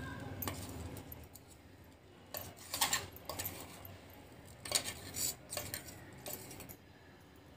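Chakli masala is moved onto a metal plate, with soft scraping and several light metallic clinks and taps against the plate over a quiet background, close by.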